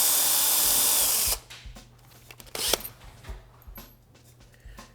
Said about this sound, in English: drill out the punch mark